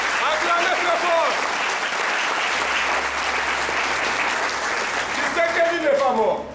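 An audience at a political training gathering applauds loudly and continuously, a dense wash of clapping from many hands with some crowd voices mixed in.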